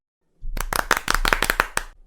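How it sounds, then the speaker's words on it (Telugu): A cartoon crowd of lice breaks into quick, close, sharp bursts of clapping after a short silence, a lively patter of about a dozen claps with no clear whistle. "అనగానే అన్ని పేలు చప్పట్లు కొడుతూ విజిల్స్ వేస్తుంటాయి."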